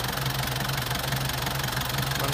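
A Nissan Big-M pickup truck's engine runs at idle with a steady, rhythmic diesel-like knocking clatter, close and constant throughout.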